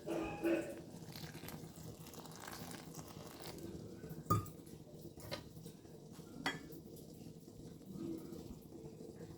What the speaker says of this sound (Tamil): இப்போ நம்ம மாவை மிக்ஸ் பண்ணிக்கலாம் தண்ணி ஊற்றிட்டு